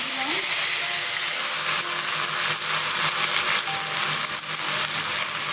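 Ginger-chili paste sizzles steadily in hot oil seasoned with dried chili, bay leaf and cumin, a continuous close hiss and crackle with no pauses.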